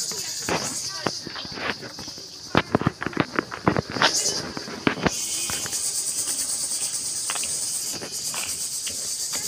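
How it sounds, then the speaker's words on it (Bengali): Crickets chirp steadily at night with a high, continuous trill, while nearby footsteps and scattered rustling clicks sound on a village walk; a person speaks over parts of it. "আর ঝিঝি পোকা ডাকতেছে"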